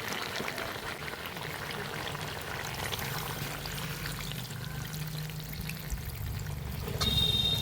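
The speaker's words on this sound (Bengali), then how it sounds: "এবার পরিমাণ মতো জল দিয়ে দেবো" Water is poured steadily into a pan of simmering village-style chicken curry, producing a continuous rushing pour that lasts several seconds and grows slightly louder and splashier near the end.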